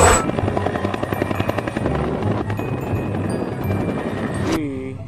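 A helicopter's rotor thumps in a rapid, steady rhythm, loud and close, ending in an abrupt cut with a brief voice after.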